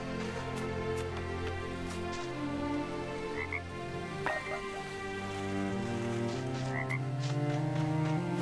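Frogs croak in the video game Wildmender, a layered run of low, rhythmic croaks with a few higher chirps, steady and moderately faint over a soft background of rain, with no voices.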